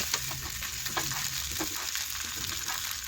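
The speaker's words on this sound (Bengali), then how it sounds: "এই দেখুন আবারও একটু নাড়াচাড়া করে নিচ্ছি" Homemade Bengali snacks (nasta) being stirred in a frying pan, a steady broadband sizzle with a few soft scraping clicks of the spoon scattered through, close and alone with no talk.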